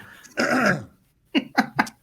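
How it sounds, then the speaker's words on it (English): A person clears their throat with one long rasping rumble, then three short, sharp throat-clearing bursts follow after a brief pause, close and fairly loud. "let me clear my throat"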